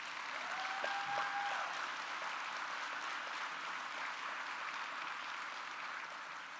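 Sustained applause from a large audience at a college convocation, a steady wash of many hands clapping at even loudness, with a faint tonal ring early on.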